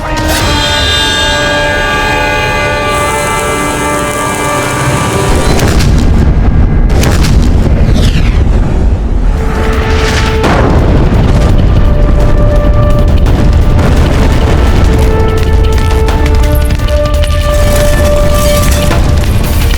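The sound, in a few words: Mughal cannons firing shells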